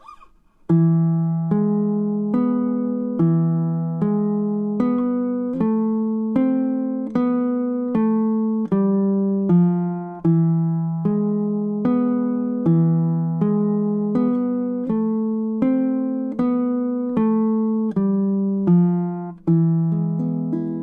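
A baritone ukulele plays Malagueña as a slow, steady melody, each plucked note ringing out and decaying before the next, with low bass notes under the tune.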